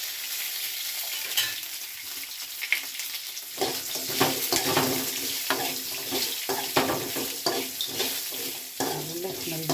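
Oil hits a pan with tomato or onion and settles into a steady close sizzle, broken by repeated scraping and clinking as a spatula stirs, with no talking.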